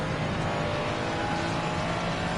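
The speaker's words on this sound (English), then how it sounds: "The Skylines sound really good." Nissan Skyline race car engine in a sim racing league at Spa, a continuous buzzing drone at steady high revs with no voices.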